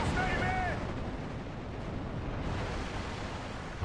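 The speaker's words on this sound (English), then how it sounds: "I need the machine gun to do its work." Machine-gun fire in the WWII strategy game Steel Division: Normandy 44, on the Omaha map, forms a dense, continuous rumble of rapid gunfire and distant blasts that holds steady and loud throughout.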